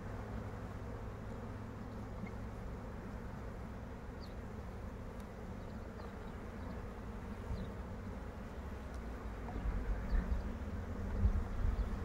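Honeybees buzz steadily at an open hive during queen introduction to a queenless colony, a dense continuous drone close by with no talk over it.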